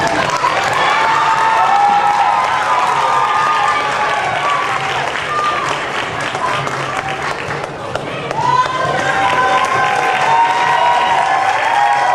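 A group at a party claps and cheers in sustained applause, with excited voices mixed in throughout, fairly close and loud.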